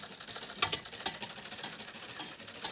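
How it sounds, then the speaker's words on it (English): A 19th-century Victorian sewing machine runs close by with a steady mechanical clatter and sharp ticking beats. There is no speech. "you would just be sewing away"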